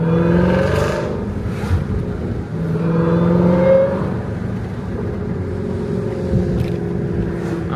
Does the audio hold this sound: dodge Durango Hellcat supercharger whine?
yes